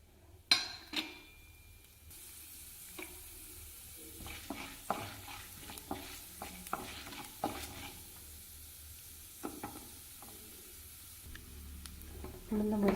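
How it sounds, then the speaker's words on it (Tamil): Urad dal hits hot sesame oil with a soft hiss under a series of sharp clinks and scrapes as a spoon stirs the pan, nearby and fairly quiet, with a louder knock near the start. "எண்ணெய் சூடாகிடுச்சுங்க. உளுந்தம்பருப்பு சேர்த்துக்கிறேங்க."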